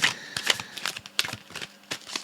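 Tarot cards being shuffled by hand, a quick series of crisp riffling snaps and flutters close up, with no one speaking.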